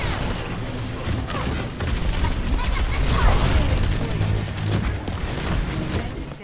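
Dense, continuous gunfire and ability effects from the Overwatch 2 video game fill the mix with rapid rattling shots and booms, loud and close, while a voice talks over the action.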